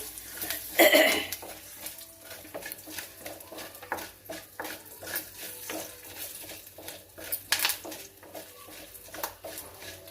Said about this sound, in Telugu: ఎండుమిరపకాయలు, కరివేపాకు. వేగాలి ఇవి.